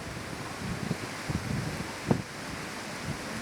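Wind buffets the microphone with a constant rumbling rush, punctuated by a few brief gusty thumps, outdoors beside a firewood processor.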